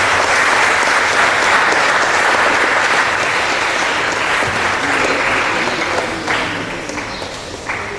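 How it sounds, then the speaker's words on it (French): Loud, sustained applause from a large audience at a Bible dedication ceremony in Abobo, greeting the sponsor, dense clapping that slowly thins toward the end. "On acclame s'il vous plaît, jusqu'à ce qu'il s'asseye."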